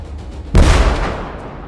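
A vehicle strikes a remote-detonated mine on a road in the Ukraine war, giving one sudden, loud, deep blast that cuts in sharply and then rolls away in a long rumbling decay.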